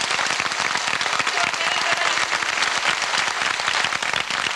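An audience gives loud, sustained applause for a rondalla string ensemble at a Pilar festival event in Aragón, dense steady clapping from many hands filling the whole stretch.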